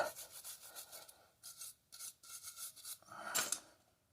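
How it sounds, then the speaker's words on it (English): A wire brush scrubs brake parts from a 2016-2022 Chevrolet Camaro in quick rhythmic strokes, soft scratchy rasps repeating close by with brief pauses and one louder scrape near the end. "Wire brush these up."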